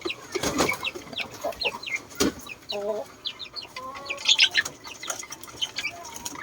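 Indio Gigante chickens on a farm clucking in a busy, overlapping chorus of short calls, some near and some farther off, with a few wing flaps and low voices in the background.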